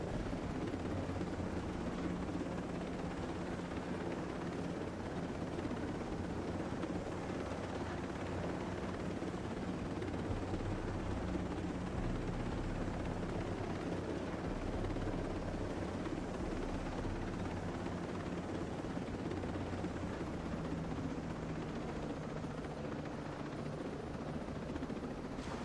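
Helicopter rotor and engine in the Ghost Recon Breakpoint video game, a steady loud droning whir with a low thumping beat that holds constant throughout, with no voices.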